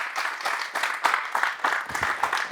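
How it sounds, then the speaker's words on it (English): A live audience at a leg lock grappling seminar applauds to welcome martial artist Frank Shamrock, with dense, steady clapping that swells in bursts and fills the whole short stretch. "Let's give him a round of applause."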